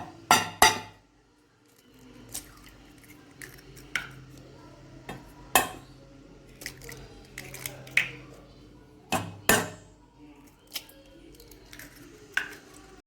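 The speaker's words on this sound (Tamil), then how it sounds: "முட்டை எடுத்திருக்கேன் அதை ஒரு பவுலில் உடச்சி ஊற்றிக்கலாம்" An egg is cracked against a bowl and poured in while making wheat-and-egg puffs; sharp taps and clinks of shell on dishware come in scattered bursts over a quiet, low background.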